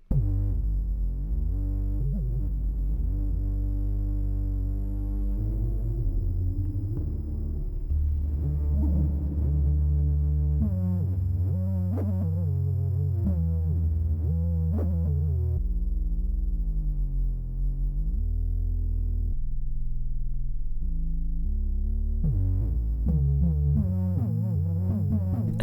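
Wobbly, detuned synth notes sway and bend in pitch through the Mass synth plugin by Nami Audio, set to its drunk signal effect. The melodic phrases play continuously and fairly loud, with short gaps between them.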